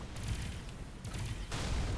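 Spaceship cannon shells fire in the space game Avorion, giving a few muffled, rumbling bursts spaced about half a second apart, faint and distant-sounding with no voices.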